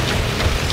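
Heavy rain pours down on a small boat out on flooded fields during a thunderstorm, a steady broadband hiss with low rumble and no distinct drops, loud and continuous.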